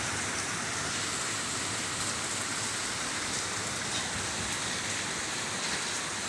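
Heavy rain pours steadily over a garden in a dense, even hiss that holds from start to finish, close and loud, with no voices.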